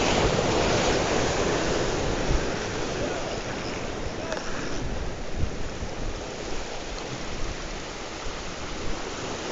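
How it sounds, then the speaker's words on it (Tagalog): Strong ocean waves surge and crash continuously during ultralight fishing, a loud, broad wash of surf with wind buffeting the microphone and no pause throughout. "Lumakas ang alon."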